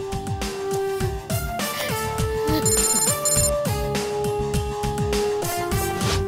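A telephone rings insistently in a Telugu movie scene, with a repeating electronic ringtone melody of several loud, steady tones and no talk over it.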